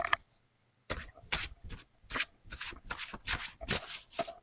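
Tarot cards being shuffled, after a brief near-silent pause a series of crisp riffling bursts in quick irregular succession, close and fairly soft.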